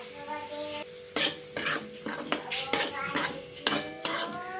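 Semolina being stirred and roasted in ghee in a pan: a run of about eight sharp spoon scrapes against metal in uneven rhythm, close up, over a faint sizzle.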